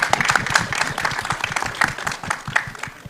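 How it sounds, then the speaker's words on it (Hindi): Audience applause for actor Sanjay Mishra at a live stage event: a steady, dense wash of many hands clapping close by, holding at full strength for the whole stretch with only small swells. "जोरदार तालियां बजाओ, थोड़ी और बजाओ, बजाते रहो"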